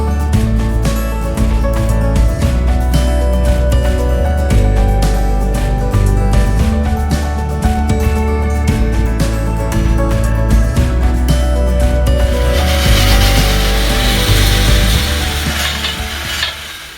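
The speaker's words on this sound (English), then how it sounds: "give this a brush down with some wire brush fittings, just to get the big chunks out" Wire brush fittings, likely on a power tool, scrub bubbly surface rust off a salvage Mini Cooper R52, a loud continuous whirring abrasion close up with a constant low drone and a shift to a harsher hiss near the end.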